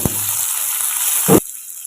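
Onion, capsicum and curry leaves frying in oil in a pan while being stirred, a steady close sizzle with a couple of sharp scrapes of the spoon, then the hiss drops away abruptly.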